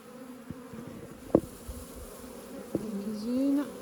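Honey bees from a package of bees give a soft, continuous buzzing drone, close and faint, with a few small knocks and one bee's buzz rising toward the end.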